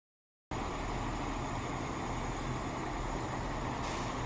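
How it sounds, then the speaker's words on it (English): A bus pulls in at a roadside bus stand in Mumbai during the monsoon, a loud, steady diesel engine rumble with traffic noise that starts abruptly after a brief silence. "Guys, this is our bus for today."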